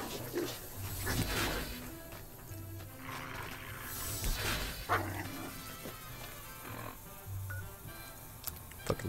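Snake-dog creatures in the video game Fallout: New Vegas growl and yelp in bursts, a restless mix of snarls and whimpers at moderate distance over a low game ambience.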